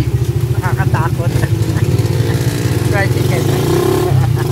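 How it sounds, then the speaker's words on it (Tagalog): A tricycle motorcycle's engine drones loud and close on a Philippine highway, a steady throbbing putter with slight rises in pitch, while a person talks over it. "Nakakahagard ang tricycle."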